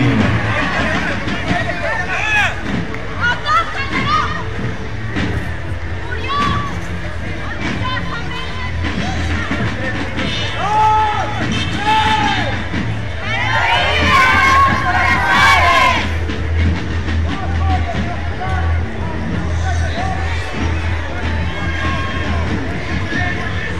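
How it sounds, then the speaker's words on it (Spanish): Parade crowd in Quito cheering, shouting and clapping, a loud continuous hubbub of voices and applause with bursts of shouting and children's cries, and a voice talking over it. "Fuerte el aplauso."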